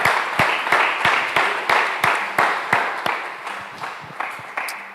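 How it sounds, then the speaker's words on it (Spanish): A church congregation at a Sunday service claps together in a steady, rhythmic beat, each clap crisp and evenly spaced, continuing without a break. "Dele un aplauso al Señor"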